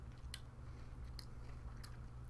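Crunchy seaweed salt flakes with dark leafy bits are chewed, giving a few faint, crisp crunches spaced about half a second apart over a quiet room hum.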